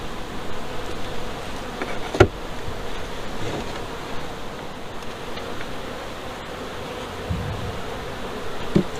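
Honeybees buzz continuously around a farm beehive, a dense steady drone close by with faint rustling and a few soft knocks.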